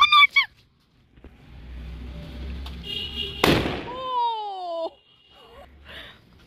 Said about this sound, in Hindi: ओ भाई बम फूट रहा है।